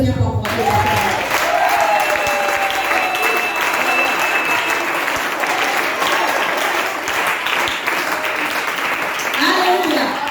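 A church congregation bursts into sustained applause to acclaim the Lord, loud and continuous throughout, with voices and cheers mixed in.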